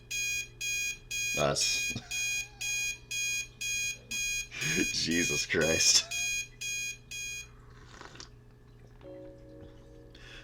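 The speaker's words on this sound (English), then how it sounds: "Still without the energy to turn the alarm off, I stare at the ceiling for a bit" An electronic alarm clock in the video game Snoot Game beeps in a steady repeating pulse of rapid tones for about eight seconds, while a person exclaims briefly over it before it stops.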